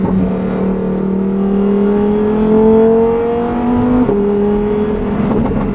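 A Lamborghini Huracan Tecnica's rear-drive V10 engine revs at about 6000 rpm, a loud, close, rising howl that climbs steadily, breaks at a gear change, then pulls on again.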